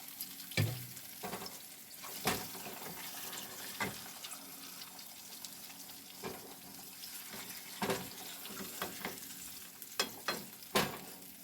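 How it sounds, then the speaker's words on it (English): Eggs fry in a pan with a faint, steady sizzle, broken by irregular clinks and scrapes of a spatula against the pan, all quiet and close with no talking. "See if I can flip these eggs without tearing them all up."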